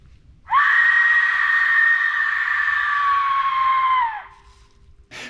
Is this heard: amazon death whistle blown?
yes